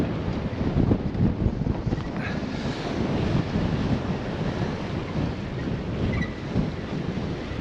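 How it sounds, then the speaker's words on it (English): Steady wind buffets the microphone at the shoreline, with waves and surf rumbling underneath, in a constant north-easterly breeze ahead of a scuba dive in the Little Russel, Guernsey. "be a bit windy today"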